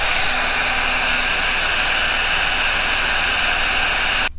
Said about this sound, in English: then I'm going to turn the hairdryer on to show you how much it draws out